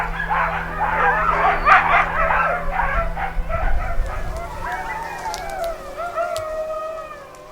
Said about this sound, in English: Feeding time for the sled dogs.